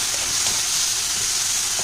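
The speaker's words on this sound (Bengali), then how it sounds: "তো এই দেখো, টমেটো পেঁয়াজ ভাজা হয়ে গেছে।" Tomatoes and onions fry in a pan with a steady, loud hissing sizzle throughout, bright and continuous with no talk.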